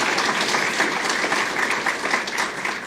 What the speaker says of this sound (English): a big round of applause for former Senator Roy Blunt